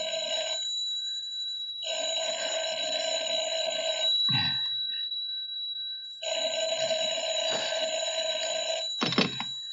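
An old-style telephone bell rings in two long bursts with a pause between, loud and close, then a handset clatters as it is picked up.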